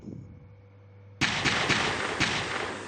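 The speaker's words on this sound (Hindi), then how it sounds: "रोको इसे, गोलियां चलाओ, रॉकेट दागो" After a quiet hum, gunfire and rocket fire suddenly erupt: a loud, sustained barrage with several sharp shots cracking through.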